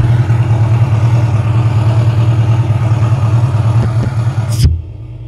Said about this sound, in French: j'envoie le bruit de moteur